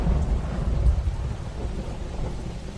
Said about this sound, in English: it suddenly starts raining